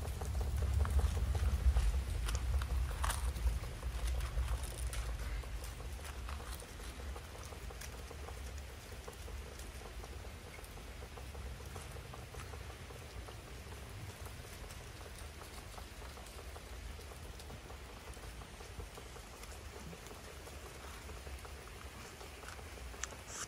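Steady rain on a July morning, falling as a soft, even patter that fills the background throughout, with a low rumble near the start.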